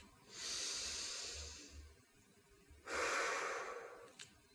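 Two slow, audible breaths taken while holding a yoga pose, a long airy inhale followed by a pause and a second strong exhale, close and clear with no talking.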